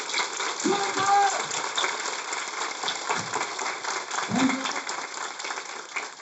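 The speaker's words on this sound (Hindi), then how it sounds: "जोरदार तालियां बजाएं दोस्तों।" Audience applause at an indoor seminar, a dense crackling wash of clapping heard throughout, with a voice speaking briefly over it.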